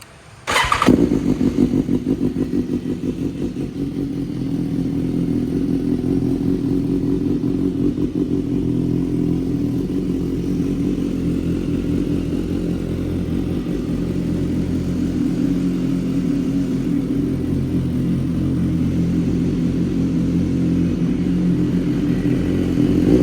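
A 2016 BMW S1000RR sport motorcycle with a full AR exhaust starts with a short crank, then settles into a loud, steady rumbling idle nearby with a faint rev near the end.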